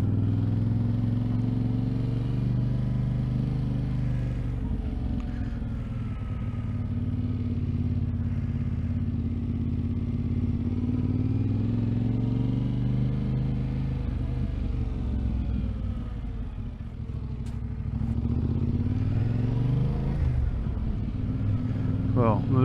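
Vehicle driving through the town of Dolgellau, a steady low engine rumble and road noise throughout, with a voice talking over it.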